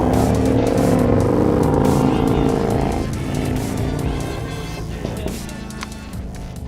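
A loud car engine roars nearby, accelerating with a tire squeal, then fades gradually as the car drives past and away.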